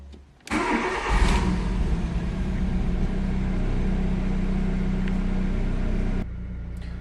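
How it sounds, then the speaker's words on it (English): An Audi Allroad with a check engine light and a failing fuel pump cranks and starts, then runs on at a loud, steady but rough idle before the level drops near the end, with no talking. "now there is a check engine light and the car is running quite rough."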